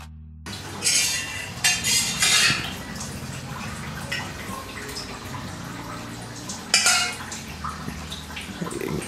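Sweet chutney is spooned into a cracked-open Jodhpur onion kachori, giving soft wet plops and clinks of a spoon against a plate, with a few louder bursts over steady low kitchen clatter.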